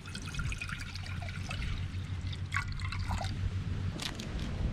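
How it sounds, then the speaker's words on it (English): On a lakeshore campsite, water pours and trickles into a pot for camp coffee, a steady splashing with a low hum underneath, close and continuous. "So we'll get this water boiling."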